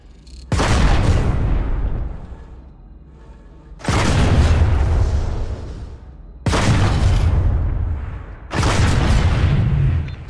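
An anti-vehicle phalanx turret in PlanetSide 2 fires high explosive rounds: four loud, heavy booms at uneven intervals, each with a long rumbling decay, and no voices.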